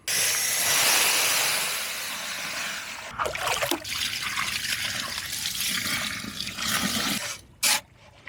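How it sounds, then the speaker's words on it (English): Water pouring into a concrete mix, a loud steady rushing hiss at first that gives way to trickling, scraping and a few sharp knocks. "then we'll put some water in it and keep filling her up"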